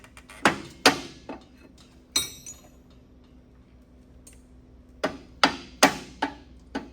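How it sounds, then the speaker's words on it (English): A hammer strikes a bronze drift to drive a motorcycle axle through, giving sharp, ringing metallic blows: two early hits, a single strike, a pause, then a quicker cluster of four near the end. "I just come through and use the bronze drift to line me up as I come through."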